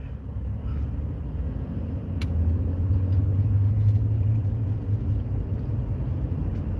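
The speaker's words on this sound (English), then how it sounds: "I'm just driving around in a circle" A car cruises in a slow circle, its engine a steady low rumble heard from inside, rising slightly midway before settling back to an even drone.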